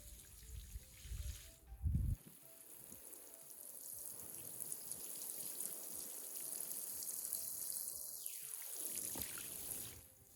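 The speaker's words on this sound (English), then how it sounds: "So one good watering in, that's all they get for a week." Water pours and trickles steadily onto a newly planted spring vegetable patch of tomatoes in a front yard, a continuous close splashing flow with a brief louder burst near the start and no talk.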